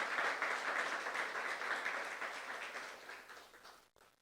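A church youth congregation claps together during a sermon, steady crowd applause that slowly thins and tapers off before stopping abruptly.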